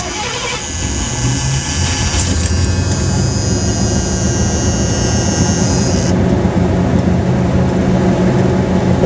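A 1978 Mercury Grand Marquis engine runs steadily at close range with a loud, continuous rumble while the manual choke is adjusted, a high whine riding on top for the first six seconds before dropping away.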